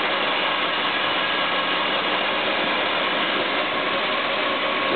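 The engine of a 1965 Lincoln Continental idling, a steady, unbroken mechanical rumble with a busy ticking texture, heard up close and fairly loud with no pauses.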